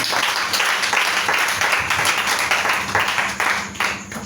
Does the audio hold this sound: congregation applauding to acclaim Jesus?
yes